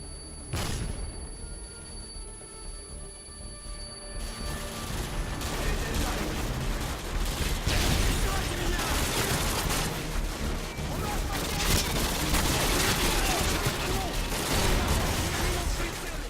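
Sustained gunfire in the video game Modern Warfare 2: dense, continuous volleys and bursts of shots with booming impacts, loud and steady throughout after a quieter opening moment.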